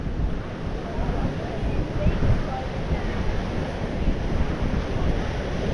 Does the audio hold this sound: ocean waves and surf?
yes